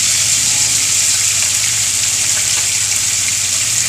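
Tilapia sizzles and crackles loudly in hot oil in a pan, a steady, close hiss of frying with no voices over it.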